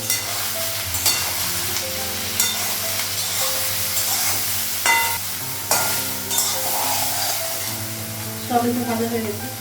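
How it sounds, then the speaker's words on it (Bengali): Soybean chunks fry with turmeric and salt in a pan, a steady sizzle with stirring scrapes, while a voice talks over the cooking. "এখন হচ্ছে সয়াবিনটা রান্না করবো আগে"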